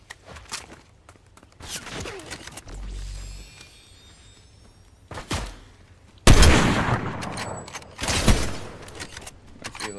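Scattered gunshots in a multiplayer shooter game, sharp loud bangs arriving in irregular bursts with pauses between, mixed with footsteps and game noise, the loudest cracks near the end.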